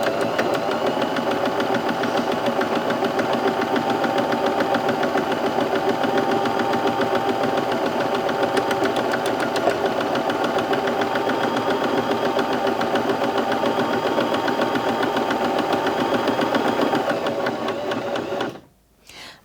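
A Bernette B35 sewing machine stitches at medium speed, a loud, even mechanical whir with rapid steady needle pulses that runs continuously before stopping abruptly near the end.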